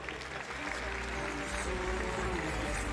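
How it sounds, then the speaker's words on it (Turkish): Audience applause at a school theatre event, steady clapping filling the hall at moderate level with faint music-like tones underneath, lasting throughout. "Alkışlar"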